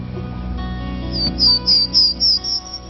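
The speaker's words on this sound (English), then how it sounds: "By mid-spring, the refuge is alive with bird songs as the neotropical migrants pass through." A songbird sings a run of five or six quick, high chirping phrases in steady rhythm, close and clear over a low background murmur.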